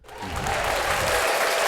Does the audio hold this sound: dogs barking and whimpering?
no